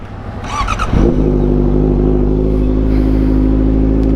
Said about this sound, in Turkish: Motor öyle çalışmaz arkadaşlar. Motor böyle çalışır.